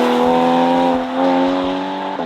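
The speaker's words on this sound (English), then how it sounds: "It's a flat six Porsche Cayman after all, and the sound of that engine should make any money worth it" A 2014 Porsche Cayman's flat-six engine hums with a steady, smooth tone, holding a constant pitch up close before a slight shift near the end.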